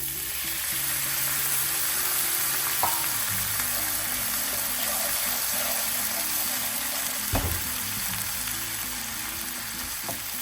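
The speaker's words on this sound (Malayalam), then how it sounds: "ഇതിലേക്ക് ഞാൻ കുറച്ച് വെള്ളം ഒഴിച്ച് കൊടുക്കുന്നുണ്ട്" Water poured into a pan of spices frying with turmeric for a masala dosa filling: steady loud sizzling and bubbling fills the whole stretch, with a few sharp clinks of a utensil against the pan and a low hum underneath.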